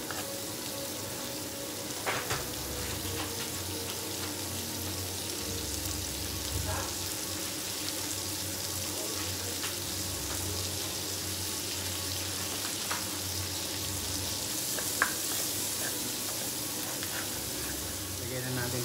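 Garlic and onion sautéing in a pan, a steady moderate sizzle with occasional clinks and scrapes, and faint talk in the background.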